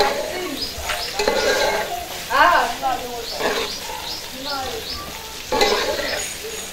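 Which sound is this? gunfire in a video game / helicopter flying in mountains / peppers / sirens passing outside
peppers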